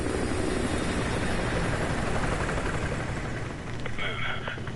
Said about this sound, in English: Enemy helo patrolling the perimeter.